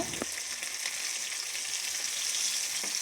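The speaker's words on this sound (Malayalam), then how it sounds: "എണ്ണ തിളയ്ക്കുമ്പോൾ മസാല പുരട്ടി മീനെടുത്ത് അതിലിട്ട് പൊരിച്ചെടുക്കുക" Constant bright hiss of masala-coated tuna frying in hot oil, close and steady throughout, with a couple of soft knocks; no voices.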